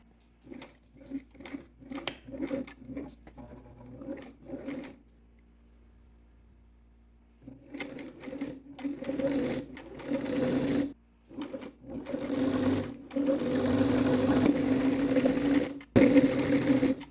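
A sewing machine running a zigzag stitch on a dress, with a quick rhythmic mechanical chatter in short bursts, a pause, then longer steady runs, close and loud.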